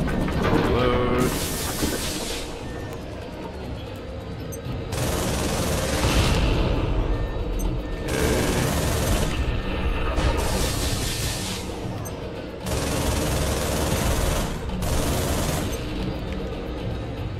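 Heavy mech rifle gunfire in the mech combat game Project Nimbus, with several long sustained bursts of loud, hissing fire separated by short pauses.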